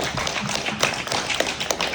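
Crowd at a Boys to Men event clapping, a dense patter of many hands with a few sharper nearby claps standing out, no talk over it.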